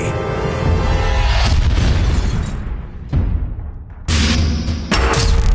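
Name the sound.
weapon test fire blast in animated Transformers film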